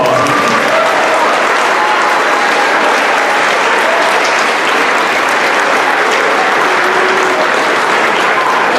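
At a middle school spring band concert, an audience gives students a long round of applause: loud, steady, dense clapping filling the hall for several seconds, with faint crowd noise underneath.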